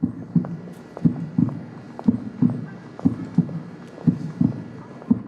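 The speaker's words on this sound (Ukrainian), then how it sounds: "хвилина мовчання під серцебиття" Heartbeat played during a minute of silence at an evening AIDS awareness event in Uzhhorod, a steady lub-dub pulse of about two beats per second, clear and prominent over a soft background hum, with no voices.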